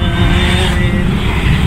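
Steady street traffic near a busy city intersection, with a dense continuous rumble of cars and motorbikes passing close by, loud with no breaks.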